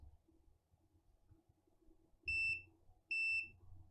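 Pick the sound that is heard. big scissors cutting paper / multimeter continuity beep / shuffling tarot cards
multimeter continuity beep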